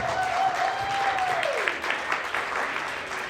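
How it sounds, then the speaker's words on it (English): Applause from the audience at a members meeting, steady moderate clapping in an indoor room, with a voice talking over the start. "Let's give Brandy a huge round of applause"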